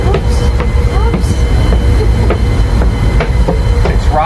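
Inside an OceanJet passenger ferry rolling at sea between Leyte and Cebu, a constant loud engine rumble and hull vibration fill the cabin, with scattered knocks and creaks over the droning hum.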